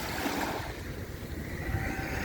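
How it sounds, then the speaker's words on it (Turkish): Sea waves on a beach make a soft, steady wash and hiss, faint and distant, with gentle surges and no voices. "Dalga sesini dinleyin."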